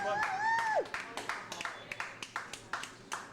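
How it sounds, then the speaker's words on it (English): A comedy club crowd at Coco's in Cincinnati applauds a comedian named Forrest, a thin, scattered clapping from a small audience with a few distinct claps, following a brief vocal whoop at the start. "Give Forrest another round of applause"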